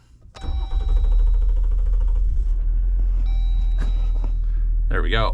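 A Jeep Wrangler EcoDiesel engine cranks briefly and catches, then settles into a steady, loud, low diesel idle with a high electronic tone above it; someone speaks briefly near the end.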